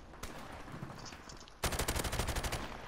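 G3 rifle fire in Call of Duty: Modern Warfare Remastered during a team deathmatch on the Crash map: one isolated shot, a pause, then a rapid, loud string of shots close up, with no talking.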